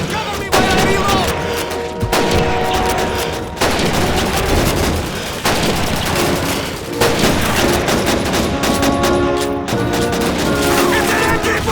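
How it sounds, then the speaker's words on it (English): MG-42 machine gun fire in the WWII shooter Call of Duty 2 at Stalingrad, sustained loud bursts of automatic gunfire with scattered rifle shots and explosions, continuous throughout with battle noise. "It's an MG-42!"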